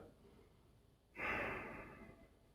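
A single audible inhale, quick and fairly close, taken during a calm EFT tapping exercise on the top of the head, rising sharply then trailing off softly over a second, with quiet room tone and no talking.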